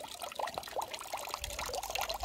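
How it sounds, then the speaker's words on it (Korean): Spring water at Dorisa temple trickles and pours steadily in a faint, close, bubbling stream with no voices. "부처님 마음처럼 흐르는 물"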